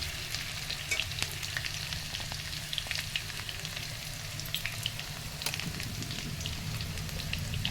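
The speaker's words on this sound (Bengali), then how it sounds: "সিম আর আলু ভাজা তো এটা প্রায় হয়েই এসেছে" Flat beans and potatoes fry in a pan on a gas stove with a steady, moderate sizzle peppered by scattered sharp crackles and pops, and nobody speaks.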